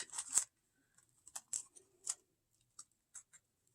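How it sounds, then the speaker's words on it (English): Scissors snipping through a paper pattern for Scherenschnitte paper cutting, faint and close, in a handful of short irregular crisp cuts separated by quiet gaps. "I'm going to continue to cut this pattern out."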